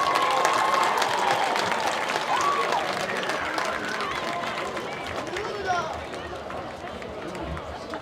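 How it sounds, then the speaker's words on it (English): Crowd applause rises at a high school football game as middle schoolers leave the field, steady clapping and cheering mixed with chatter and an announcer's voice, loud at first and gradually easing. "Let's give them a big round of applause as they leave the field."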